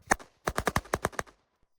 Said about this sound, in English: These are some commercial firecrackers I found